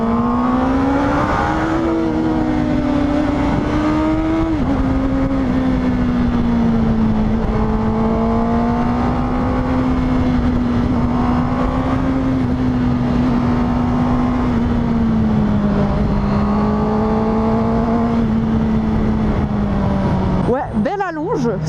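A Honda CB650R motorcycle engine drones loudly and steadily while riding, its pitch climbing and easing under acceleration amid constant wind rush.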